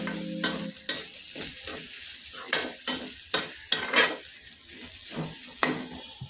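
Meat frying in a pan for meat pitha, a steady sizzle punctuated by about a dozen sharp spatula scrapes and knocks against the pan, close and alone.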